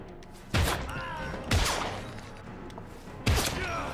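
Three separate loud gunshots ring out about a second or two apart in the video game Heavy Rain, each a sharp close blast with a short decay over a steady game background.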